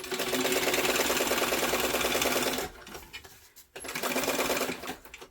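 A sewing machine stitches backpack fabric in steady, rapid bursts, running continuously for a few seconds, pausing briefly, then starting up again close by.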